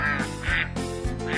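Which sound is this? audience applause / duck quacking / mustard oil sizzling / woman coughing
duck quacking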